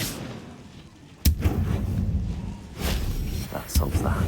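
A Depulso spell cast in the Hogwarts Legacy video game lands as a sharp, loud blast followed by rumbling impact, with a second burst a moment later amid game ambience and a voice speaking.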